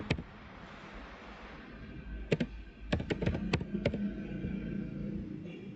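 Keys on a computer keyboard are typed in a short burst of quick, crisp clicks after a quiet pause, close and fairly faint over a low room hum.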